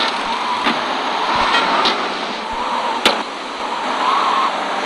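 A car engine in the video game GTA 3 hums and whooshes steadily at moderate loudness, with a few sharp clicks and knocks over the continuous road noise.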